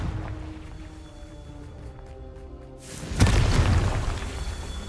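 A Confringo fire spell bursts in Hogwarts Legacy, a sudden booming blast after a quiet stretch of ambient game sound, followed by a loud, sustained crackling rumble.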